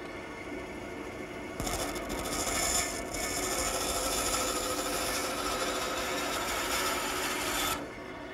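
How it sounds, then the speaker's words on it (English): Wood being cut for an outdoor garden table: a steady, close rasping saw stroke starts after a quiet moment, runs for about six seconds, then stops. No one speaks. "Now when I make the cut, I want to stay shy of the line."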